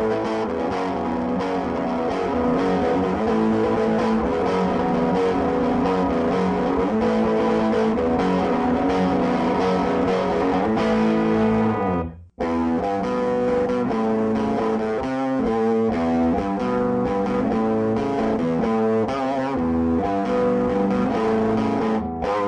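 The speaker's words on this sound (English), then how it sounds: "playing with a nice Les Paul through the lead pickup. I can get a nice, crunchy, distorted sound at a relatively low volume." Les Paul electric guitar on the lead pickup played through a vintage Sears Silvertone twin 12 amp head at low volume, giving a crunchy distorted tone; steady strummed chords and riffs fill the passage, with a brief cut near the middle before playing resumes.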